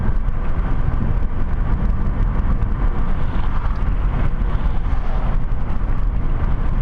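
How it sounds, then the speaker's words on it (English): A car accelerates on a road as the speed limit rises to 70, its engine and road noise forming a steady, loud rumble with wind across the microphone. "so I accelerate to get my speed up"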